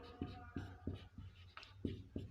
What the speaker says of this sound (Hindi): तो यहाँ पे थोड़ा सा लिख देते हैं